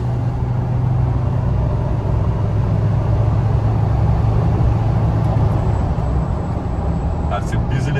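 A Troller TX4 pushed to full throttle gives a loud, steady, close engine drone with a strong low hum that holds for the whole stretch, ending with a few faint clicks.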